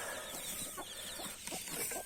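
Chickens cluck in short, soft, repeated notes on a farm with newly hatched chicks, heard moderately close over a steady background hiss.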